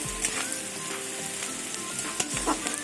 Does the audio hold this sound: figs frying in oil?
yes